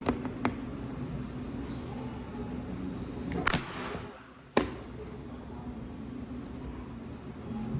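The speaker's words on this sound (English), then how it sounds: "it slipped, and it just slapped right down on the surface, and it was so loud in the room" An Apple Magic Keyboard slaps down onto a hard surface in two loud, sharp cracks about a second apart, preceded by a small tap, against quiet room tone.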